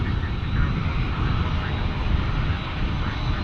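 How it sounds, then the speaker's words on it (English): Small Cessna 208 Caravan turboprop airplane at Dallas Fort Worth International Airport, a steady broadband engine roar holding even throughout, moderately loud with no clear changes. "And then we get a little Cessna Caravan 28 or 208 Caravan right there, right in the foreground."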